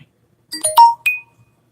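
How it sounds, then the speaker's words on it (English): A short phone text message notification tone plays alone indoors on a rainy day, a quick run of bright chiming notes lasting about three quarters of a second, clear and fairly close. "Just got a little text message."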